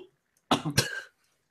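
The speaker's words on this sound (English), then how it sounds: "Yeah, bad cough." A single harsh, close-up cough from a man, two quick rasping bursts followed by silence.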